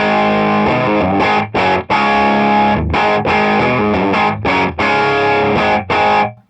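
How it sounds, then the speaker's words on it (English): Heavily distorted electric guitar chords through a tube amp pushed for more distortion ring out loud and close, played in choppy bursts with brief gaps, thick and saturated in tone. "I'm going to push the master a little bit more, just to get a little bit more tube distortion"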